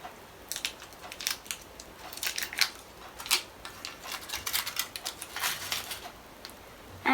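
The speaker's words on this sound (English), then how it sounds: "Next you're going to need a Reese's peanut butter cup. Just unwrap it" A Reese's peanut butter cup has its crinkly paper and foil wrapper peeled away. The crackling and rustling keep going with no breaks, close and fairly quiet.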